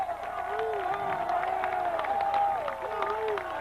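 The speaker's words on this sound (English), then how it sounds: "And the crowd comes to its feet. 3rd down and 8. At the 23, listen to the crowd." Crowd at a 1997 high school football game between MBA and Brentwood Academy roars steadily, a sustained distant cheer with whoops, heard under a play-by-play announcer's voice.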